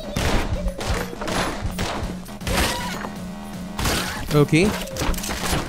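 Gunfire in Anger Foot comes in sharp bursts and single shots among thumps and crashes, while someone talks over much of the action.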